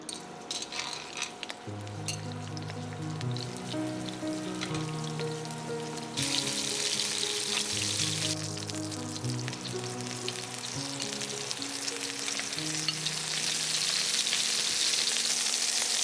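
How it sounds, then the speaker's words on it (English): Protein sizzles and fries steadily in oil over medium-high heat for drunken noodles, a continuous crackling hiss with occasional clinks of utensils and a bright, intensifying spatter toward the end. "On medium-high heat, let's cook up the protein first."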